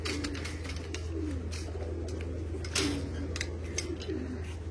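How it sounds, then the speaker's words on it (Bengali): Main flying pigeons cooing inside a home loft, their soft, repeated throaty calls rising now and then over a constant low background hum, fairly close and with no talk. "এই ঘরের পায়রাগুলো এই হলো আমাদের মেন পায়রা।"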